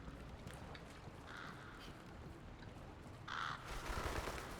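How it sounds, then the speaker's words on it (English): Crows caw in the video game Dragon's Dogma, two harsh, raspy calls at moderate distance over a dense, rumbling ambient background, without any talking. "What, crows?"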